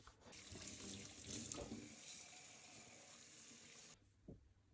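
Cold tap water runs into a kitchen sink as rice is rinsed for homemade sushi, a loud steady gush for about four seconds that stops abruptly, leaving brief faint handling sounds.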